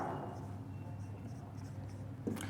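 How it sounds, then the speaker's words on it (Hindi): Notes are written on a board in a classroom, the faint scratch of strokes running under a low steady background hum, with a brief louder scrape near the end. "नाम लिखेंगे मैक्स नॉल"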